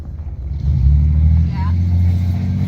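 A vehicle drives into a campsite at night, its engine rumbling low and swelling louder as it rolls in close, with voices talking over the motor.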